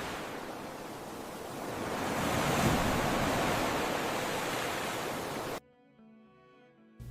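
Ocean surf washes in as a broad, steady roar that swells and fades over several seconds, then cuts off abruptly into quiet, faint musical tones.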